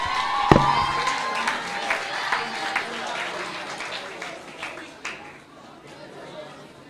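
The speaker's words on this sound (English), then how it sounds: "Please clap one more time." An indoor audience claps at the close of a talk, the applause loud at first, then thinning out with some scattered claps and murmured chatter.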